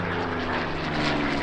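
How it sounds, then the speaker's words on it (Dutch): WW2-era propeller airplane flying overhead at a Liberation Day event, a steady, loud droning engine roar with strong low harmonic hum holding constant throughout. "het vliegtuig wordt gevlogen door Steve Jones."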